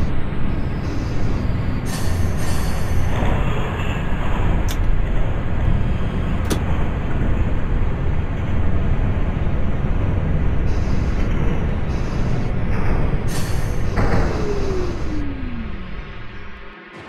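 A Manhattan-bound 2 subway train runs steadily in the OpenBVE simulator, with a loud continuous rumble and rattle of wheels on track, plus brief squeals and a falling tone as the motor winds down near the end.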